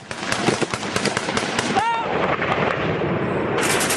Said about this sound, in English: the assault begins with a hail of gunfire